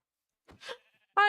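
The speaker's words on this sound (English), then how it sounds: "Hey, sheep!" A Minecraft sheep bleating: two short quiet wavering bleats, then a louder, clearer bleat at the end, with nothing else around.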